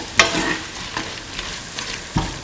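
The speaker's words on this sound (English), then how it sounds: "Now scramble the eggs after it's fried for around 2 minutes." Eggs fry and get scrambled in a pan, with close sizzling under a few sharp scraping stirs of a utensil against the pan.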